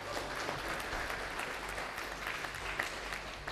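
Audience clapping in a hall at a regional law students' debate semifinal in Kalimantan. The sound is a fairly quiet, continuous patter, steady throughout, with a low hum underneath and no clear speech on top.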